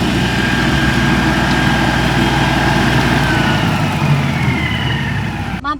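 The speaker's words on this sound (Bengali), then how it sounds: "এখন জমিতে ঘাস কাটা হচ্ছে" Large grass-cutting machine working in an open field, a steady, loud engine drone with a low rumble running throughout, ending with a brief burst of closer noise.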